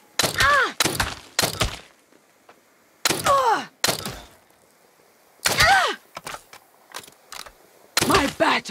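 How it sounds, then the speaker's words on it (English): Melee strikes land in Saints Row (2022): several heavy, close thunks in separate bursts, each paired with a strained grunting voice, with short quiet gaps between them. "Time for a melee attack!"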